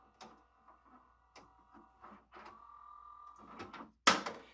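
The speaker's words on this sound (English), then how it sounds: "Let me press eject button." Tray motor of a Sony MDP 333 laser disc player running after eject, a steady mechanical whir lasting about a second, surrounded by soft clicks and ending in a sharp loud clack.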